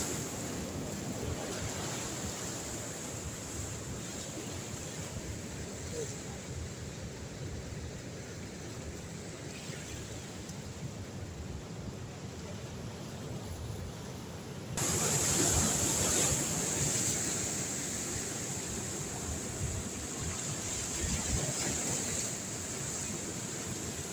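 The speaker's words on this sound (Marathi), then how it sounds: "आता इथे मोठी लाट येते" Rough monsoon sea at Harihareshwar beach: heavy surf rolls in as a constant roar mixed with wind buffeting the microphone, growing louder as a bigger wave surges in midway.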